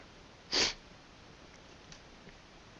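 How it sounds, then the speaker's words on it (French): One short, sharp sniff from someone with a cold near the start, followed by quiet background with a few faint breaths. "Désolé pour les reniflements"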